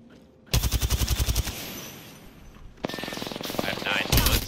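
Rapid gunfire in a shooter video game, a burst of sharp shots up front, then a quieter stretch and a second burst near the end, with talk briefly in the mix.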